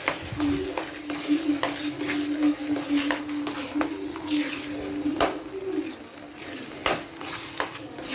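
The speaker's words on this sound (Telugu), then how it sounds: "గ్యాస్ దగ్గరే ఉండి బాగా కలపెట్టుకుంటూ ఉండాలి ఫ్రెండ్స్" A spoon clinks and scrapes against a kadai as sweet purnam filling is stirred in ghee over the gas, repeated metallic taps and scrapes sounding close, with a voice faintly in the background.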